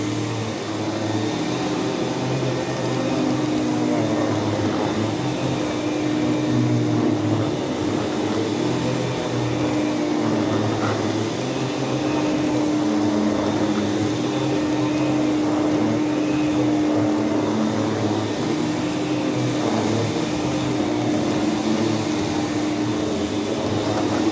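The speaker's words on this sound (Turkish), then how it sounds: "Dövücümü de çalıştırıyorum." A vacuum cleaner runs steadily at maximum power with its beater brush switched on, giving a loud, constant whirring drone with a sustained hum that holds for the whole stretch, with no voices.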